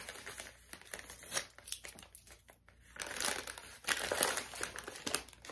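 Packaging tape torn and peeled open during a subscription box unboxing, heard as close, irregular crinkling and ripping bursts with brief pauses, fairly quiet and without speech.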